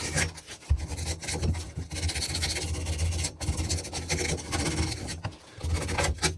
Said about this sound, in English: All right, I got some 150 grit sandpaper, so I just got a piece of it out.